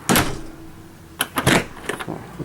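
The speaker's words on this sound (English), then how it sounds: "as you can see, I put no force behind this door to close it" A workshop door in an engine repair shop swings shut on its hinges under light force, giving a soft thump and a few quick knocks and clatters near the mic with no speech.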